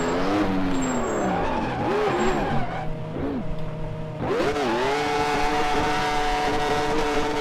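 A 1996 Formula 1 car spinning donuts in a racing sim at Barcelona, engine revs rising and falling in sweeping loops with tyres squealing and skidding, loud and close throughout.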